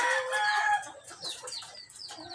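Layer hens in a coop clucking and calling close by, a brief burst of loud overlapping cackles followed by scattered softer clucks.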